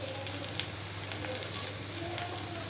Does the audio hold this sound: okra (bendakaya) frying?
yes